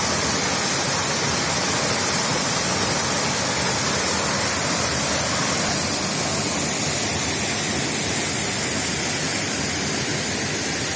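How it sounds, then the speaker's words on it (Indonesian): Waterfall in a forest near Sabang, Aceh, a loud, continuous roar of falling water close by, broadband and unchanging, with no voices over it. "Sudah sampai di air terjun kan?"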